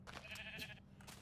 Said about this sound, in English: Ooh, there's a sheep right here with wool.